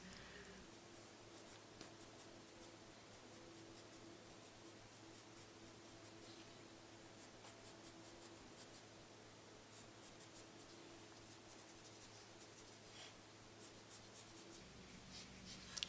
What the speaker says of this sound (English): I'm going to use my charcoal pencil, just go in between the hairs.